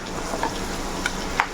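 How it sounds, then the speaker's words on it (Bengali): Chopped onion frying in oil, a faint continuous sizzle with a few small utensil clinks, close by and with no voices. "পেঁয়াজ কুচিটাকে আমি একটু ভেজে নিব"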